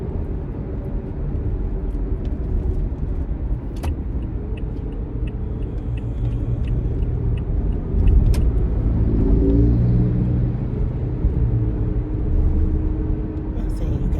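Road traffic with cars driving slowly, a steady low rumble of engines and tyres that swells slightly midway as a vehicle passes nearby, with someone talking over it.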